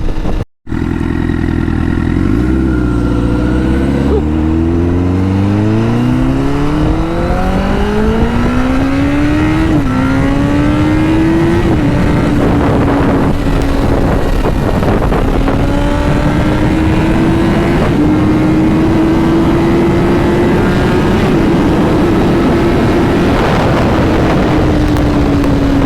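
Honda CBR1000RR sport motorcycle on a ride, its engine revving up through the gears with rising and falling pitch, loud and close over steady wind rush, no talk.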